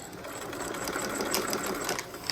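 A sewing machine back stitching a lined yoke, a brief continuous rapid needle whir, close and steady, with no voices.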